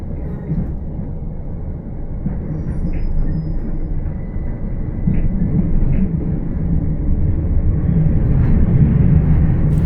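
Continuous low rumble of a train rolling along toward Portsmouth Harbour station, gradually growing louder, with faint squeaks and clanks over the steady drone.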